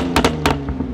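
A BMW G80 M3 with a 620 hp tune has its exhaust revved briefly. A few quick, deep blips burst over a steady low rumble.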